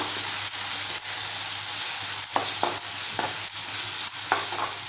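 Prawn rice in a pan is stirred together with Malvani masala, garam masala and turmeric, giving a loud continuous frying hiss with soft scrapes of the spoon moving through it.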